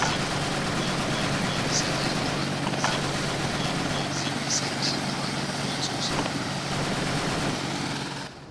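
Helicopter rotor and engine drone from a military aircraft in the combat game Arma 2, a steady loud whir held throughout with faint sporadic battle noises and brief voice chatter.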